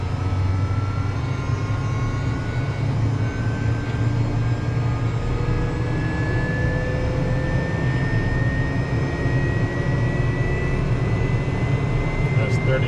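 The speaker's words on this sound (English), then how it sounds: "Starter engage. Okay, looking for 30. There's ignition." A fixed-wing aircraft's jet engine spools up after ignition, a steady loud roar with rising whines throughout, heard close from the cockpit at night.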